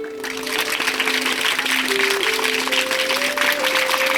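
Primary school children clap together during a yoga and meditation class, producing a continuous even clatter of small hands with a sustained melodic tone running underneath.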